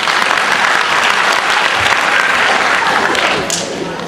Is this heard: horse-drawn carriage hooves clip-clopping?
no